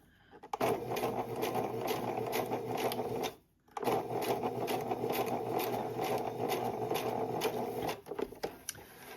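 A sewing machine runs steadily as it sews elastic into a fabric tube, humming with a rapid needle chatter. It stops briefly partway through, then carries on.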